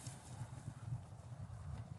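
Low, steady hoof thuds from several cows running over ground, a soft continuous rumble with irregular beats, fairly close, no voices.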